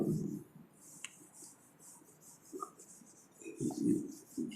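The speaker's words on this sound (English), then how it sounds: "I have to erase this portion" A duster or eraser wipes writing off a classroom board during a C++ computer science lesson, a few soft rubbing strokes in short bursts with quiet gaps between them.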